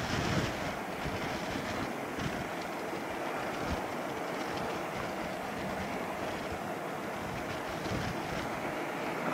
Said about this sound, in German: Hier sind keine Geräusche, außer das Meer.